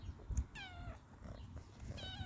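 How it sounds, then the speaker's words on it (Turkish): A cat meows several times in short, rising cries, fairly close but soft, with light handling noise between them. "E ama miyav diyorsun geliyorum gidiyorsun gel."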